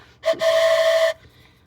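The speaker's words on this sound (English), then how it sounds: "let me blow my savings train whistle" A toy train whistle gives one short blast and then a steady, sustained steam-style toot of about a second, loud and close, with no talking over it.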